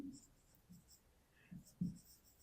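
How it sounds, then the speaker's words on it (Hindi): A pen scratches across paper while a math problem on converting cubic metres to litres is worked out, quiet short strokes in bursts with brief pauses between them. "सबसे पहले हम लिखेंगे V"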